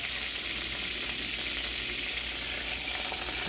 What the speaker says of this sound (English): I'm going to go ahead and put my shrimp in.